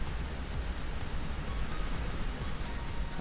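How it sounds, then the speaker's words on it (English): Waterfall ambience in the video game Minecraft: a constant, fairly quiet rushing hiss of falling water, with faint soft ticks at regular intervals over the steady wash. "you hear the waterfall effect,"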